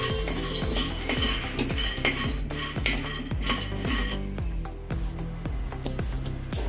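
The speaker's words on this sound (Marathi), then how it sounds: "शेंगदाणे आपल्याला 5 ते 6 मिनिटं भाजून घ्यायचे." Peanuts dry-roast in a kadhai on a gas stove, stirred in a steady rhythm of close scraping strokes, with the nuts rattling and clinking against the metal pan.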